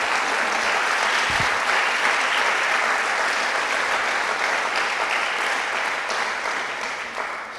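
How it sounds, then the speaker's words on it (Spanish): A church congregation claps steadily together during a Sunday evening service, a dense, sustained wash of applause that fills the room alone and tapers off slightly near the end. "No sé si le da un aplauso al Señor esta noche."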